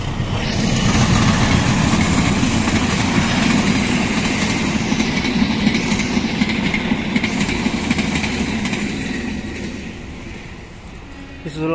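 A new Indonesian-built KRL electric commuter train passes on the rails with a loud, steady rumble and rhythmic clickety-clack wheel beats, close by and continuous before easing slightly at the end.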